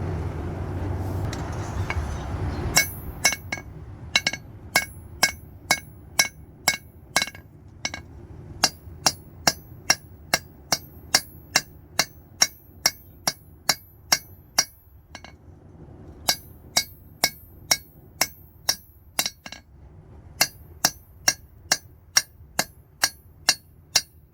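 Hammer blows on hot steel while forging a knife, ringing metallic strikes in steady runs of rapid rhythmic hits with short pauses between bursts, close and loud, after a brief low rumble at the start.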